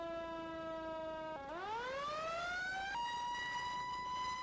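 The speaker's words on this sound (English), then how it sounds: "here is how the siren sounds" Fire truck siren in Farming Simulator 2019 wails steadily, drops, then climbs into a rising sweep before holding a higher tone, loud and continuous with no talk.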